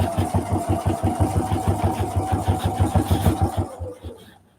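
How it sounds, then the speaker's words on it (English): A sewing machine stitches a fall quilted market bag, its needle running in a fast, even mechanical chatter of rapid repeated beats, close and steady, before slowing and stopping near the end. "we're going to sew all the way to the end."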